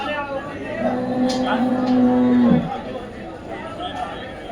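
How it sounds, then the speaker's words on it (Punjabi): A long, loud low bellow from a water buffalo rises over the murmur of a crowded livestock market at Dhanaula, with voices chattering in the background. "ਬਹੁਤ ਚੰਗੀਆਂ ਮੱਝਾਂ ਪਹੁੰਚੀਆਂ ਹੋਈਆਂ"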